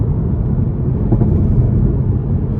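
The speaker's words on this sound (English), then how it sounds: "I'm gonna downshift and then just gas it one more time" The 3.0-litre engine of a 2021 Toyota Supra 3.0 Premium pulls hard after a downshift, a steady deep rumble heard from inside the cabin with no talking.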